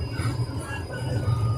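An air-conditioned passenger train rolls along, its low steady rumble close and continuous, with faint rattling over the top.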